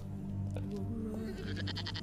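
A goat bleats in the pirate game Raven's Cry, a close, wavering, nasal call over a steady low background hum.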